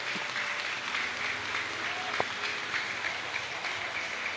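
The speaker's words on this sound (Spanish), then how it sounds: "Denle un aplauso a nuestro Dios." Church congregation applauding during a Spanish-language sermon, a sustained patter of many hands clapping at moderate distance with a faint murmur of voices underneath.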